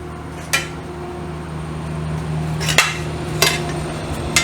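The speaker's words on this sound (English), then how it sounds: "So let me bolt the pad on." Metal tools clank against the bodywork of a Triumph 500 Otter motorcycle as a pad is bolted on, with four sharp separate knocks over a steady low workshop hum.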